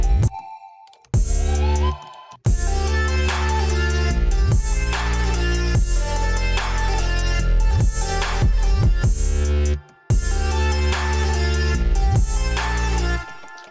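A flute lead preset on the Citrus synth in FL Studio plays a quick synth melody alongside a full EDM backing with bass and drums. It stays loud and dense, with short dropouts near the start and around ten seconds.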